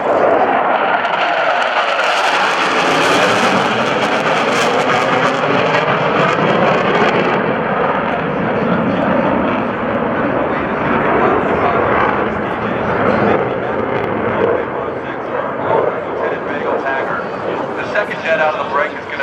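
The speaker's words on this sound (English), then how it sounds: "Out of the break is going to be an F-A-18E Super Hornet" An F/A-18E Super Hornet jet flies a naval air power demonstration at the 2012 NAS Oceana airshow, its loud, continuous roar filling the whole stretch with wind buffeting the microphone.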